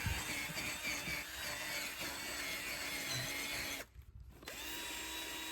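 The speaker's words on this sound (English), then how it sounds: "take your drill" A power drill runs steadily at close range while loosening dirt from car carpet, cutting out briefly for about half a second before spinning back up.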